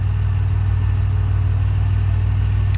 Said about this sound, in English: It sounds way better than the old motor